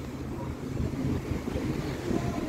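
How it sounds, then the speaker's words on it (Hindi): Strong wind buffets the microphone outdoors in Cape Town, South Africa, a steady, loud, low rumbling roar with gusty swells throughout and no talking. "आज इतनी ज़्यादा हवा चल रही है।"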